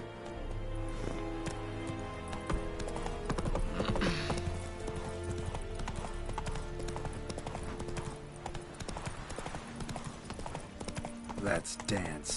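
Roach, Geralt's horse in The Witcher 3: Wild Hunt, clip-clops along at a steady pace through a busy game mix, with music and talk over the hoofbeats.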